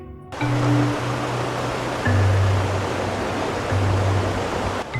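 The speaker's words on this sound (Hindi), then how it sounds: "दूध सागर जलप्रपात यानी वाटरफॉल भारत के गोवा राज्य केसुंगेम तालुका में मांडोवी नदी पर स्थित 4 मंजिला झरना है।" Dudhsagar, a four-tiered waterfall on the Mandovi river in Goa's Sanguem taluka, makes a steady, dense roar of falling water that stays loud and unbroken throughout, with a faint low hum underneath.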